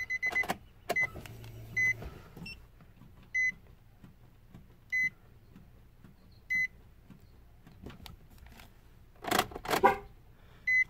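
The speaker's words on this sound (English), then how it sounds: "Horn honks, and leaving ignition on." A Nissan 350Z or Infiniti G35 horn gives short, evenly spaced honks about every second and a half during a diagnostic test mode, against quiet background clicks, with a louder burst of mechanical noise near the end.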